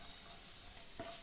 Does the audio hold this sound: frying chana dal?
yes